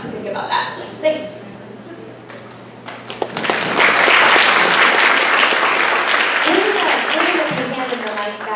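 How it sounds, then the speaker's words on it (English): An audience at a mental health talk breaks into sustained applause after a stretch of someone talking, the clapping loud and dense for several seconds before tapering off. "While I love your applause, you can hold your applause for the end"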